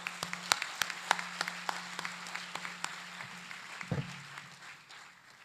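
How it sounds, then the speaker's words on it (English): Sparse applause at an international technology conference, a few distinct sharp claps ringing out over a faint room hum, thinning out toward the end with a brief thump near the close. "let us invite with a big applause the guest of honor and keynote speaker, Professor Dr. KPS Rana"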